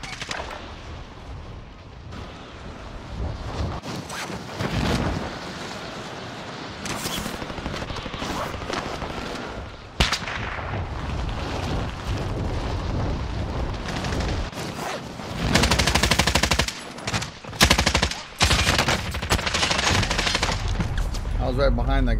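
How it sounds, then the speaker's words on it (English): A nail gun fires in a video game, with long bursts of rapid shots amid other heavy gunfire and explosions in a loud, continuous firefight, plus occasional voices. "Nail gun."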